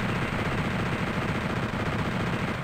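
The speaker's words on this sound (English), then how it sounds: "I'm shooting down this guy." Rapid, continuous automatic gunfire from the Doom II video game on PlayStation rattles steadily and densely throughout, loud and unbroken with no speech over it.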